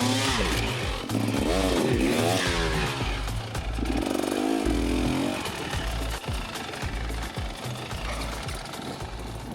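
Enduro motorcycle engine on a ride toward an active volcano in Central America, buzzing steadily at close range with rising and falling revs, loud throughout with no talk.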